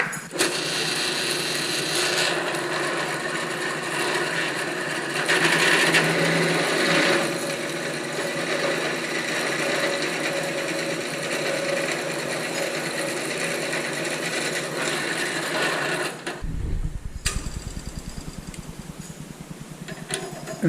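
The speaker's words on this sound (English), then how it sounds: "And we'll drill our 1/2 inch." A drill bores a 1/2 inch hole through steel, giving a steady, loud grinding whine that runs unbroken for about sixteen seconds and then cuts off, leaving quieter workshop noise.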